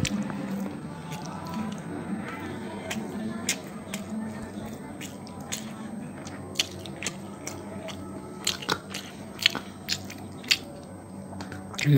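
Someone chews pitha, a Bengali rice cake, close up, with irregular soft squishing and crunchy bites scattered through a background murmur.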